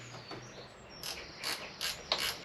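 Ratchet wrench loosening an 8mm bolt on a battery terminal: a series of quick, faint ratcheting clicks in short bursts, about four clusters, close and unaccompanied by talk.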